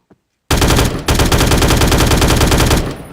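A 5.56 rifle in a Minecraft Bedrock gun mod fires on full auto, a loud, continuous rapid burst with a brief break near the start before it tails off.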